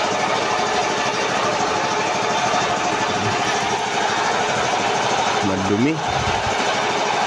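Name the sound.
air compressor running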